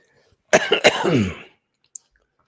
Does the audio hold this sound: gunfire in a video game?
no